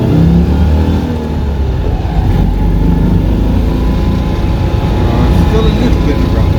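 Loud, steady engine drone of a Citroën 2CV while driving on a road trip toward Wolverhampton, a continuous low rumble filling the cabin from start to finish.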